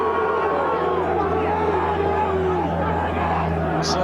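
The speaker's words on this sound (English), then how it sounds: "boos ringing all around this ground" A football crowd at a 1983 match between Sunderland and Ipswich sustains a loud, continuous roar of disapproval aimed at the referee, a dense wash of many voices with occasional whoops rising above it throughout.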